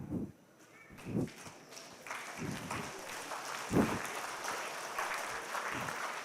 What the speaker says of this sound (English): now raise your hands and start clapping